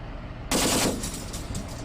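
Tank machine gun in Steel Beasts, a Leopard 2A4 in town defense, firing tracer rounds at infantry: a short, loud burst about half a second in, then trailing echo and fainter rattles.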